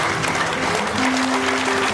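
Loud, sustained applause from a large audience at a senior training conference, dense continuous hand-clapping with steady intensity and a faint tonal hum underneath.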